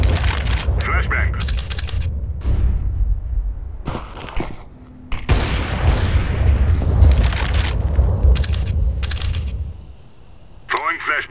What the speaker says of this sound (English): Throwing flashbang. Deploying flashbang.